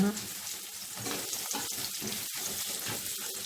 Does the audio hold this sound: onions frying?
yes